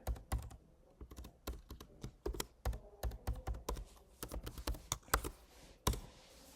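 A computer keyboard typed on in quick, uneven bursts of crisp clicks while an email address and password are entered, close and fairly quiet with short pauses.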